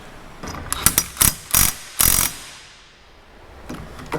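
Impact wrench working a bolt on a corn head rebuild, several sharp rattling bursts in quick succession, close and loud, with quieter clicks and handling noise between and a last faint burst near the end.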